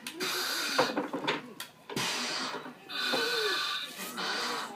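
A firefighter's heavy, hissing breaths are drawn and pushed out through an air mask in a slow, steady cycle, close and loud, with brief muffled talk in between.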